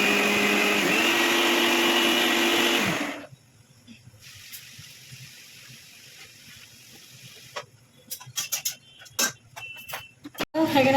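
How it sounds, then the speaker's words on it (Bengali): Mixer grinder grinding poppy seeds, a loud whirring motor for about three seconds that cuts off abruptly, followed by quiet clatter and scattered knocks and clinks. "পোস্তটা বেটে নিই।"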